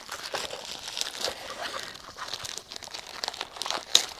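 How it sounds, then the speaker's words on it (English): Crinkly plastic and paper packaging of a designer parcel being torn open and unwrapped, a steady run of crumpling and rustling close by with a sharper crackle near the end. "I'm cutting the tape."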